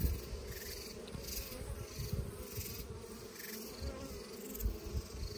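Honeybees buzzing around the queen at a top-bar hive, a dense continuous droning hum, close and steady with slight swells.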